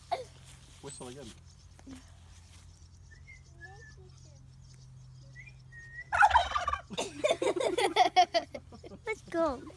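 Turkeys gobble in short, scattered calls while a cat is among them, fairly quiet at first and then joined by louder overlapping talk from people nearby.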